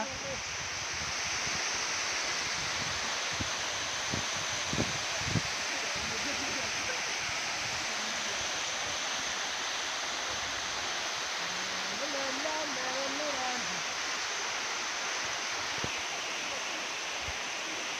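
Water at Talakona waterfall rushes in a broad, steady roar heard from nearby, with wind buffeting the microphone and people talking over it.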